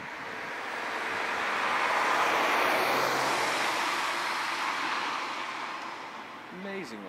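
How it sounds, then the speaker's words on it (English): Cars glide past on a road, a broad steady roadway wash that swells to a peak mid-clip and eases off, with a louder passing engine near the end. "Cars are like gliding around with a lot of sound."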